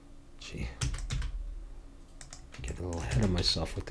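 Quick clicks and taps from a computer mouse and keyboard while someone models an object in Blender. The soft clicks come in short bursts mixed with a man's speech.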